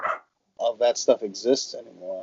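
A small Chihuahua-type dog gives a quick run of high yips and barks close by, mixed in with people talking over it.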